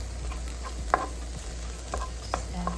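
Corn and diced green chilies char in a hot pan with a low steady sizzle, broken by occasional sharp pops and spatula scrapes over a constant background hum.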